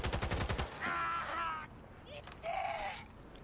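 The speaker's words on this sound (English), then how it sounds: "Yes, those are bullets." Rapid bursts of automatic gunfire from the game Cyberpunk, a close, fast rattling volley at the start followed by quieter scattered shots and faint in-game voices.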